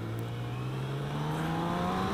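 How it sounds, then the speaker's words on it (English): Engine of a 2016 BMW K 1600 GT Sport motorcycle rising smoothly in pitch as revs build, a quiet, steady hum that climbs gradually without breaks, heard alone at moderate distance. "very quiet engine until you open up the throttle past about a quarter and get the RPMs up a little bit"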